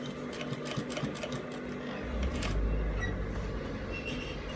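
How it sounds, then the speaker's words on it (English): A sewing machine stitching along the edge of a kaftan neckline, running in a fast, steady mechanical chatter close up, with the motor tone deepening midway through. "So I'm going to stitch, get it at the edge of the top of the neckline."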